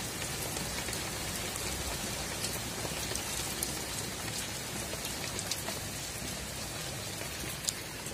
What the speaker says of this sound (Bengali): তো বাইরে বৃষ্টি পড়ছে